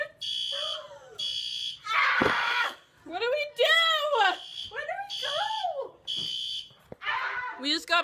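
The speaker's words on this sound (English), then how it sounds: "the fire alarm goes off" Repeated electronic fire alarm beeps sound in regular bursts, loud and close, while a dog barks and people talk anxiously over the alarm.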